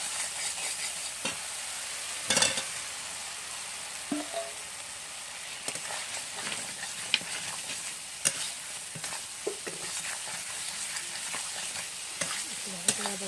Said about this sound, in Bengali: এখন আমি আলুটা দিয়ে দিচ্ছি।